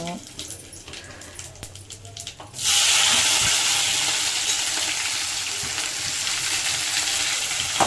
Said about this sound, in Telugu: దాంట్లోకి ఆవాలు వేసాను, జీలకర్ర వేసాను, కరివేపాకు వేసాను, ఆనియన్స్ వేస్తున్నాను